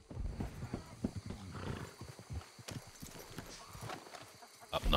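Horse hooves clip-clop in Red Dead Redemption 2 online, a nervous horse trotting with a steady uneven rhythm of close, moderately loud hoof strikes over a busy game background.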